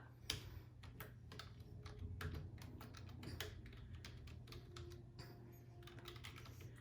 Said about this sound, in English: Then use your keyboard, type your name.